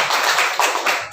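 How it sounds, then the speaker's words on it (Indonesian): Teachers at a writing training clapping their hands in agreement, a dense, close burst of group applause lasting about a second with slight swells and no talking. "Kalau sepakat ya tepuk tangan Pak."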